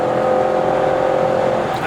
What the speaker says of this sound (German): wir hören so ein Surren vom E-Motor, vermischt mit dem Klang des RS6.